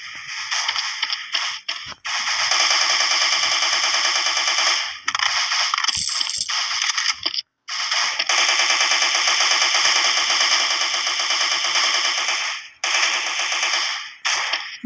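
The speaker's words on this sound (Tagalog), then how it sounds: "gatling gun kagad inuumpisa natin dito sa Special Force" A gatling gun in the video game Special Force fires long, dense, sustained bursts of rapid shots, loud and close, broken by a few brief pauses.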